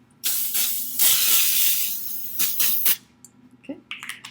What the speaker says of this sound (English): you're going to spray your pan very well because it's going to stick.